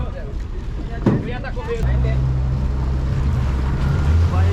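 A motorboat engine drones steadily over wind and water noise, starting up partway through after a brief burst of voices, in Senegal.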